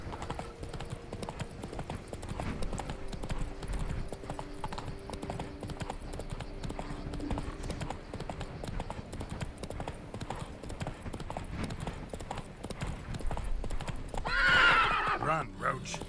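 Roach, the horse in the video game Witcher 3, gallops with steady close clip-clop hoofbeats under faint voices and game ambience, then lets out a loud whinny near the end.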